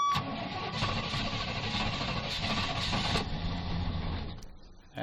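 Small primed engine on a lawn tool starting and racing at high speed, a continuous loud buzzing rev that holds for several seconds before dropping off near the end.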